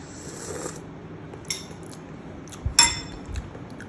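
Metal spoon clinking against a bowl of soup: a few scattered light clinks and taps, one sharper ringing strike near the end, close and fairly quiet.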